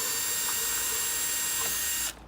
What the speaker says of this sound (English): I'm going to drill 2 holes here for my bell plate.